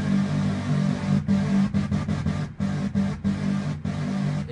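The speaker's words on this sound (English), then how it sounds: "this is the original synth sound I did" Original detuned synth patch meant for a hardstyle dragon roar, a buzzing sustained tone with a steady low hum, chopped by several abrupt gaps into stuttering bursts.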